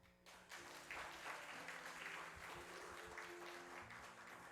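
An audience claps in a church during a service award ceremony, dense sustained applause that starts abruptly and holds steady at a moderate level, with no talking over it.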